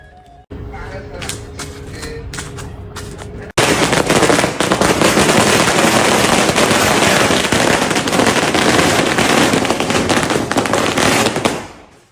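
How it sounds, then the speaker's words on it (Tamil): Firecrackers burst in a dense, loud, continuous crackling barrage at a street celebration of a TVK election win, following a few seconds of scattered pops and background voices. "டிவிக்கு வின் பண்ணதுக்கு நாங்க பட்டாசு வெடிக்க போறோம்"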